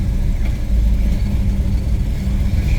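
A 1968 Pontiac Tempest GTO tribute with a 428 cubic inch V8 idles with a steady, deep, loud rumble throughout.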